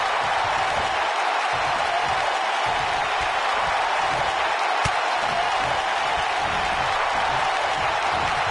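A raucous wrestling arena crowd in Philadelphia roars in WWE 2K19, as a loud, unbroken wash of cheering and clapping that holds steady the whole time.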